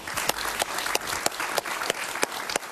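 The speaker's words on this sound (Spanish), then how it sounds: "Un aplauso para él, por favor." A crowd applauds steadily, dense clapping filling the space with a few sharper individual claps standing out, fairly loud and continuous.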